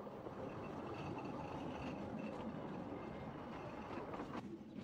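A 1950s-vintage narrow gauge locomotive running, heard as a continuous low rumble with rhythmic clattering of wheels on rails, fairly faint and steady.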